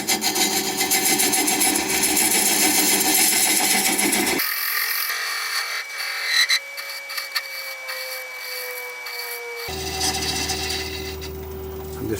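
Carbide tool cutting an ironwood goblet on a wood lathe, a loud continuous scraping whir whose pitch and texture shift partway through as the cut changes, close and steady with no talking.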